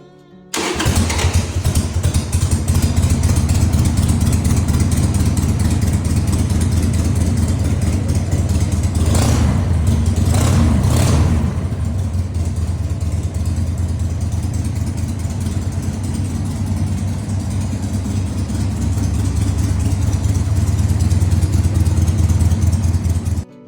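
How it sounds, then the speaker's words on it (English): A 2001 Harley-Davidson XL 1200 Sportster V-twin starts up and runs, its loud, close, rumbling idle steady throughout, with a brief rise in revs partway through. "For sale is a 2001 Harley-Davidson XL 1200 Sportster, a timeless American cruiser"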